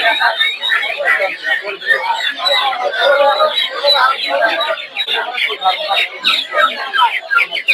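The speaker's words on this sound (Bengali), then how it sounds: "যেগুলো দেখতে পাচ্ছেন সেটা হচ্ছে ফার্মে মুরগির বাচ্চা" Farm-raised chicken chicks at the Gausia Golakandail poultry market make dense, continuous high peeping and chatter. It is loud and close, with people talking among the birds.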